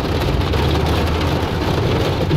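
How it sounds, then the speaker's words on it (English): Heavy rain pours down in a steady, dense roar, loud and continuous with no voices. "it's pouring hard."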